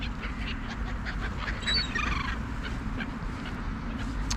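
Fowl honk and call at an evening feeding on All Saints Day, a brief cluster of calls over constant outdoor background noise.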